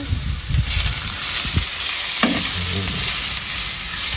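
Pandan leaves tossed into hot oil in a pan for a Sri Lankan crab curry, a loud, continuous sizzle with a few stirring knocks and scrapes, close up and with no talking.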